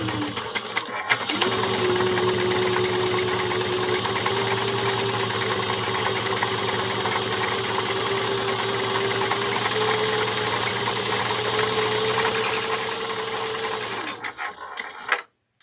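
A sewing machine stitching a handbag seam, running at a steady hum with rapid rhythmic needle chatter for about thirteen seconds before slowing and stopping, loud and close.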